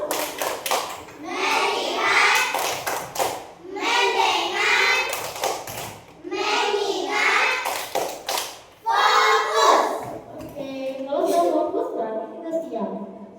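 A school class performing the 'tepuk fokus' clapping routine, bursts of rhythmic group clapping alternating with children chanting together, ending with a teacher talking.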